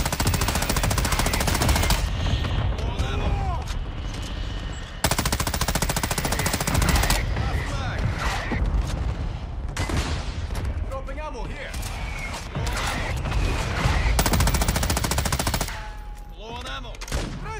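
Modern Warfare 2 gunfire aimed at a VTOL aircraft, loud bursts of automatic fire repeating in long runs across the whole stretch, with players talking over the shooting.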